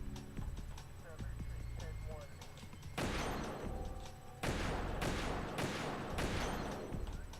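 Gunfire in Metal Gear Solid 2: Substance on PlayStation 2, with rapid bursts of shots starting partway through and repeating in dense volleys over steady game background sound.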